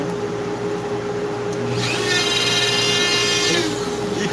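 A Dremel rotary tool carving a bald eagle head whines steadily with a low motor hum throughout, its pitch rising into a sharper grinding buzz for a couple of seconds as the bit cuts in.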